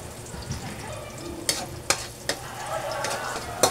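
Ginger added to garlic frying in a pan for a sweet and sour fish sauce, a quiet steady sizzle with a few sharp clicks and scrapes of stirring, close by and without speech.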